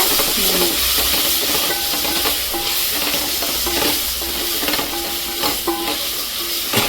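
Homemade ginger garlic paste frying in oil for biryani makes a loud continuous sizzle, with repeated scraping and clattering strokes of a stirring spoon against the pan close by.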